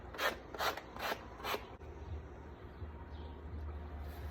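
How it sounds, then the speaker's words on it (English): A gator sander sanding around the edge of a handmade wooden steampunk butterfly wall hanger, heard first as four rhythmic rasping strokes and then as a steadier, lower rubbing grind, close and alone. "we're gonna take our gator sander and we're just gonna go around the whole thing"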